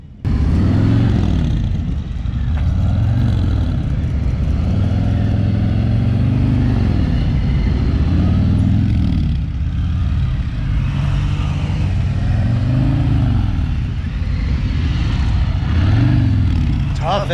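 Motorcycle ridden slowly through a motor school course, its mid-pitched engine rising and falling in repeated gentle throttle swells throughout, loud and close.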